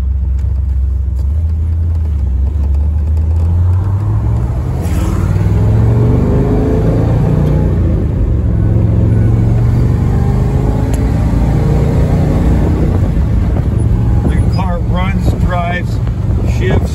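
A 1967 Pontiac GTO engine on a test drive, rumbling low and steadily as it downshifts and climbs in revs, with constant wind buffeting over the microphone and a voice talking throughout.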